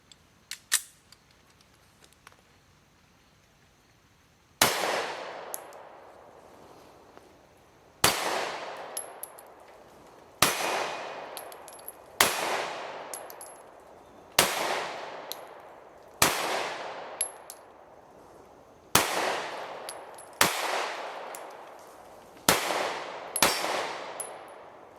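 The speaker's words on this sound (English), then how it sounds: "So now we're going to run some more of our MagTech ammo." A Taurus GX4 XL pistol firing MagTech ammunition outdoors, after a few faint clicks, with about ten loud, sharp reports spaced a couple of seconds apart, each ringing out with a long decaying echo.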